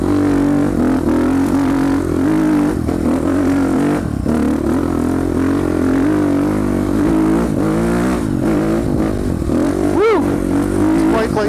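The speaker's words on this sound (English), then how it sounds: "even over this loud little bike" A small, loud dirt bike engine revs and drones up close while the rider moves along a trail, the pitch rising and falling with throttle and a sharp surge near the end.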